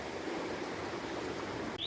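Water of Leith river flowing past St Bernard's Well in Edinburgh, a steady, dense rushing wash with no pauses, moderately loud and continuous.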